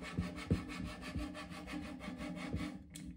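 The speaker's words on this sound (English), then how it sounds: "we're going to use our scraper and scrape it" A hand scraper drags across a wooden dog bowl in repeated scraping strokes, quiet and close, with a rasping rhythm and no talking.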